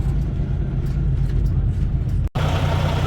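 A noisy truck engine runs close by in a ghost town, a steady loud low rumble that cuts out for an instant near the end before resuming.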